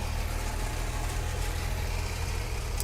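An antique car engine idles steadily at a Labour Day parade in Sarnia, a continuous low rumble with a faint background hiss and no talking.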